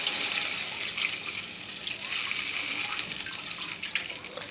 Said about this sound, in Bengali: দিয়ে দিচ্ছি অল্প জল।